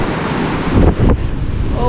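Brown, churned-up sea surges against a windy shore after heavy overnight rain, with a steady roar of surf and wind buffeting the microphone, loud and close, swelling in one stronger wave wash midway.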